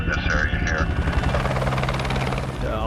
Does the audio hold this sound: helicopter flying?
yes